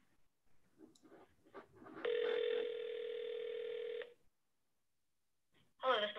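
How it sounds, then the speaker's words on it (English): A landline telephone is hand-dialed: a few short soft key presses, then a steady loud dual-tone held for about two seconds, a pause of silence, and a brief ringback tone starting at the end. "obviously I'm hand dialing. I'm not calling on a dialer."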